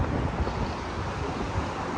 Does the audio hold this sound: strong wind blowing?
yes